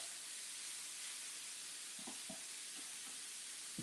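Ground meat for keto tacos sizzles in a hot pan with a steady, bright hiss, while a metal spatula breaks it up with several scraping knocks close by. No one speaks.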